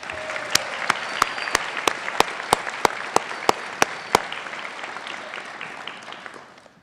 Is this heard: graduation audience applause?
yes